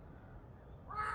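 A young crow caws once near the end, a short, close call over a low background hum.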